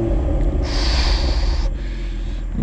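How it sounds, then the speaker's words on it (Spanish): The optional sport exhaust on a 2022 BMW Z4 M40i gives a deep, raspy roar as the engine is revved, rising in intensity and then easing back, loud and close throughout. "Justamente este sistema de escape es opcional para el M Sport."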